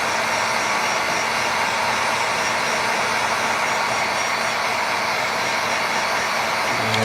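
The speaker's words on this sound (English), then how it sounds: "A hairdryer works great for that too." A hair dryer heating plastic blows in one steady, loud whooshing hum, close and unbroken the whole time, with no one speaking.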